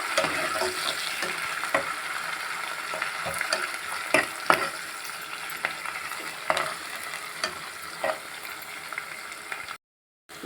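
Curry leaves fry in hot oil in a home kitchen pan for a potato curry. A steady, close sizzle runs throughout with occasional stirring clinks and pops, then cuts out abruptly at the end.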